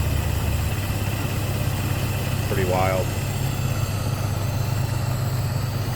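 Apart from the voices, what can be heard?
1924 Ford Model T engine idling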